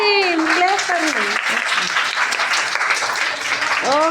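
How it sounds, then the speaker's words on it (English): A group of children breaks into brief applause while a voice speaks over the start, the clapping filling the room before trailing off. "Clap for him."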